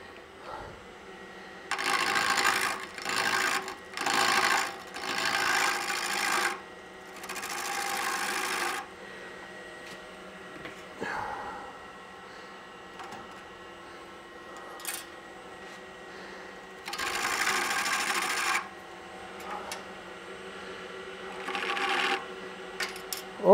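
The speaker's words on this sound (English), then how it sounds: "I'm just going to use a parting tool because all I'm going to do is about a 3/8 of an inch or less" Wood lathe turning a piece as a parting tool cuts in, heard as a steady motor hum broken by intermittent close scraping bursts in uneven bouts, with a few small knocks between.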